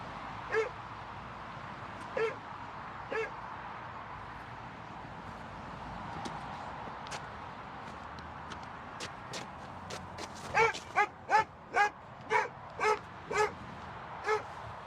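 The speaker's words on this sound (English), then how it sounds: "So the dog's barking." A dog barks in a confined space during a tense eviction dispute, first a few spaced barks, then a rapid run of sharp barks, moderately distant and unaccompanied by audible talk.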